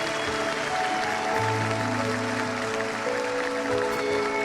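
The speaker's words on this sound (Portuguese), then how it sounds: "Você pode dar uma salva de palmas onde você está?" Steady, dense applause from a church congregation fills the room throughout, with sustained organ or keyboard tones underneath.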